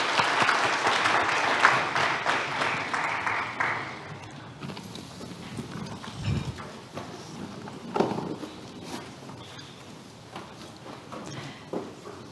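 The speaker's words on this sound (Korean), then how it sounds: "다시 한번 큰 박수 부탁드립니다." Audience applause at a central bank international conference opening session, a burst of clapping that fades after about four seconds, followed by scattered handling and shuffling noises in a quieter room.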